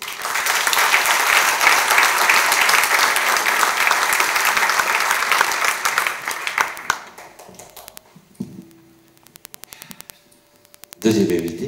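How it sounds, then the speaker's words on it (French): A concert audience in Aubord applauds loudly and continuously for about seven seconds, then the clapping thins into scattered claps and taps, followed by quieter room noise and a brief hum. "on l'applaudit encore, merci"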